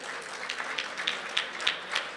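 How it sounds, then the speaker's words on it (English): Gala fundraising dinner audience applauding a committee chair, a moderate spread of hand claps with some sharper individual claps standing out at a steady pace, without talk. "Please give him a big hand."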